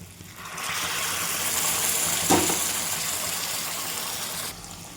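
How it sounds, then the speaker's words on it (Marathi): Hot water pours into a pan of Vidarbha-style jackfruit curry, a steady broadband gush lasting about four seconds and fairly loud, then stopping abruptly, with no talk over it. "थोडं गरम पाणी टाकून घेते."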